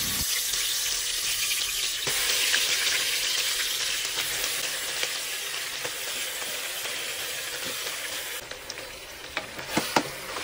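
Meat frying in mustard oil with sugar, cloves and bay leaves inside a pressure cooker, a continuous close sizzle with a few sharp clicks and scrapes of stirring near the end.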